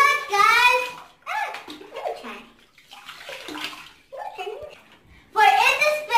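Water is poured and sloshed over a spinning Paw Patrol bath toy in a bathtub, with splashing in short bursts between stretches of someone talking close by.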